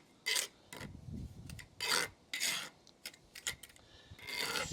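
A trowel scraping and pushing grout into patio joints, rough gritty rasps in short separate strokes with brief pauses, close and moderately loud, no voices.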